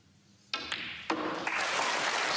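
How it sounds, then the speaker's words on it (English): A snooker crowd bursts into applause for Ronnie O'Sullivan's century break at a semi-final against Anthony McGill, starting after a quiet moment and swelling quickly into sustained, full clapping. "And the crowd have thoroughly enjoyed this match."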